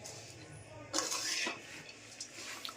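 Metal utensils scrape and clatter against a steel plate while a sticky jaggery and puffed rice mixture is spread out, a burst of scraping near and moderately loud in a quiet kitchen.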